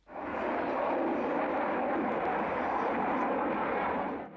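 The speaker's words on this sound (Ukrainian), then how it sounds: "літак для завоювання переваги у повітрі су 35" A Russian Su-35 air-superiority fighter jet flies past with a steady, loud, continuous broadband engine roar that holds evenly throughout, with no voices over it.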